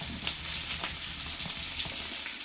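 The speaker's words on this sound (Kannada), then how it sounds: "ಅದಕ್ಕೆ ಸ್ವಲ್ಪ ಎಣ್ಣೆನ ಹಾಕಿ ಇವಾಗ ಅದಕ್ಕೆ ಈರುಳ್ಳಿ, ಸಣ್ಣದೊಂದು ಟೊಮೆಟೊ, ಬೆಳ್ಳುಳ್ಳಿ, ಪುದೀನ ಸೊಪ್ಪು, ಸಾಂಬಾರ್ ಸೊಪ್ಪು ಹಾಗೆ ಮೆಣಸಿನ್ಕಾಯಿ ಹಾಕಿ ಇವಾಗ ಹುರ್ಕೊತಾ ಇದ್ದೀವಿ" Onion, tomato, garlic, mint leaves and green chillies fry in oil in a pan, giving a steady close sizzle and crackle with small bursts and no talking.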